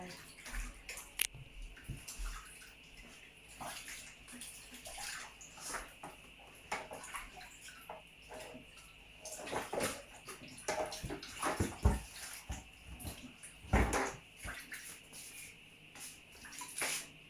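Bananas washed by hand under running tap water, a continuous splashing stream broken by irregular louder rinsing bursts and handling clatter.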